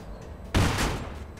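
A single loud gunshot fires in the 1940s-style crime video game Mafia 2, a sharp blast followed by a brief rumbling tail over low background game ambience.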